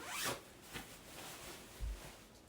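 A zipper on a Patagonia 850 down ultralight 20-degree sleeping bag zips in a few quick, soft pulls, close up and faint, with no talking.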